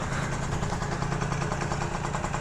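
Honda Elite scooter with an aftermarket V8-style exhaust pipe, engine running cold at a steady loud idle with a fast, even throbbing pulse close to the recorder and no talking.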